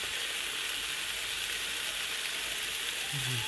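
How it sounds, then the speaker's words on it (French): Garlic sizzling in a hot pan, a steady, even hiss that runs without a break, close and fairly quiet, with one faint clink near the end. "Ça sent l'ail, ça cuit vite, hein."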